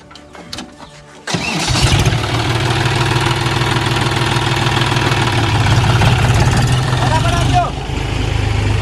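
A tractor engine cranks and catches, then settles into a loud, steady chugging idle close by, with a brief change in pitch near the end.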